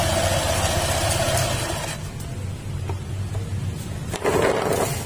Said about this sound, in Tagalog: Off ko muna yung makina.